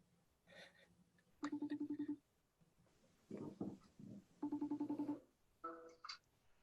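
A telephone call rings through: repeated bursts of an electronic ringing tone in short pulsed groups, separated by gaps with faint background sound.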